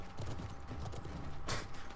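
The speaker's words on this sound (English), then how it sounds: "Did I just get run over by an horse?" A horse gallops in the medieval battle video game Conqueror's Blade, with rapid hoofbeats over dense, noisy game ambience and a brief loud burst near the end.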